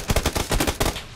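Rapid automatic gunfire from the video game PUBG on Xbox: a loud, close burst of about ten shots fired in quick succession, with no talking.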